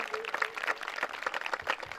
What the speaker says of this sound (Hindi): तो पहले तो ताली इनके लिए